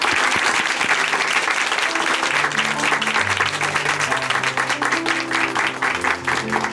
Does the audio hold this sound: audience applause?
yes